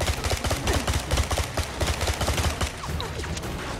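Gunfire in the video game 007 Bloodstone crackles in rapid, repeated bursts of sharp shots, loud and close, sustained across the whole stretch with no pauses.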